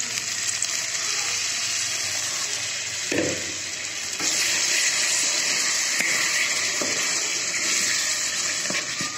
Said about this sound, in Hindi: हम इसको थोड़ा सा ग्रेवी के लिए हल्का सा वाटर ऐड करेंगे, पानी।